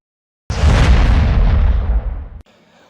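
A firecracker bursts at a political party celebration in Puducherry, one loud close boom that starts abruptly, rumbles for nearly two seconds and then cuts off into quiet.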